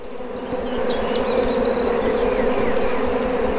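Honeybees buzzing loudly and steadily on a hive frame of honey and brood, a dense close hum with individual bees darting past in rising and falling whines.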